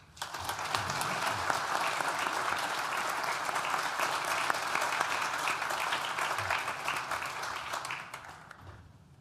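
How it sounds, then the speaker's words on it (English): A large crowd at a university graduation ceremony applauds steadily for about eight seconds, a dense, even roar of clapping that fades out near the end. "Please join me in thanking them with a well-deserved round of applause"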